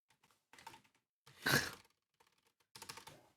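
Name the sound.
computer keyboard typing, deleting text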